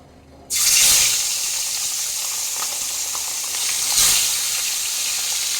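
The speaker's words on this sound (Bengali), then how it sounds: "এবার আমরা সেই নুন হলুদ মাখানো মাছটাকে ভেজে নেব।" Fish coated in salt and turmeric drops into hot oil in a kadai and bursts into a loud, close sizzle that holds steady, flaring again a few seconds later.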